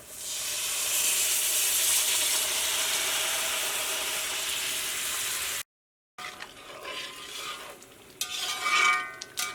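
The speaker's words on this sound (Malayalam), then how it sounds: "ഇതിലേക്ക് നമ്മൾ വേവിച്ച് വെച്ചേക്കണ നമ്മുടെ കോളിഫ്ലവറും പിന്നെ ഉരുളക്കിഴങ്ങും കൂടിയിട്ടുള്ളതുണ്ടല്ലോ, അത് നമ്മൾ ഇതിലേക്ക് ചേർക്കാൻ വേണ്ടിയിട്ട് പോവാണ്." Cooked cauliflower and potato go into a hot, sizzling pan: a loud continuous fry hiss for several seconds, then after a short gap, scraping stir strokes and softer sizzle as the vegetables are tossed.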